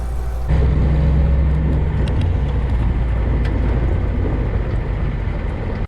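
A 1953 Willys Jeep M38A1 engine misfiring while driving, a loud continuous low rumble and road drone that starts abruptly and holds steady throughout, no voices over it.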